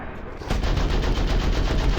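Tank gunfire in the War Thunder game during a KV-1 heavy tank battle, a rapid, loud burst of repeated shots kicking in after a brief quiet lead-in and hammering steadily on to the end.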